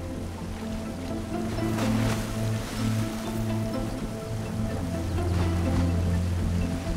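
Hundreds of wildebeest surge across a river together, making a dense, continuous wash of splashing and churning water that stays loud and steady throughout, with no voices.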